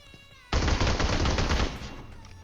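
Rapid automatic gunfire in PUBG Mobile, a loud dense burst of shots lasting over a second, abruptly starting and stopping over faint background game sounds.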